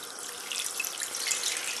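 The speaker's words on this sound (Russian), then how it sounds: "Я их залью пока что холодной водой" Cold tap water pours steadily onto dry yeast in a container during home moonshine sugar-wash preparation, a continuous close hissing splash with no talk.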